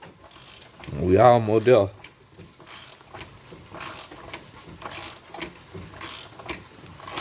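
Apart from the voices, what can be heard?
removing power steering pump pulley with ratchet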